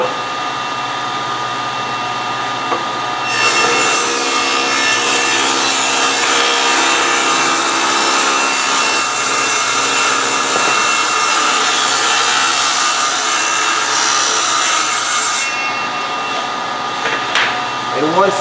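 Table saw fitted with an 8 1/4 inch Tenryu blade rips wooden splines, a loud, steady whining cut lasting about twelve seconds, with the motor's quieter hum before and after.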